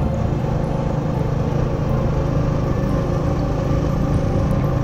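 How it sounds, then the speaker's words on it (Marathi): A motorcycle ridden on an open road gives a steady, even engine drone mixed with wind rush. It is continuous and moderately loud, with no pauses. "पण चालवतोय बाईक."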